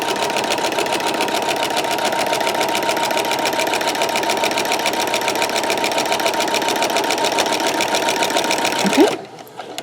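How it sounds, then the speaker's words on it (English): Sewing machine fitted with a walking foot stitching a quilt along a quilting guide, a steady fast mechanical whir running for about nine seconds before stopping abruptly. "With the walking foot, the machine is doing your work for you."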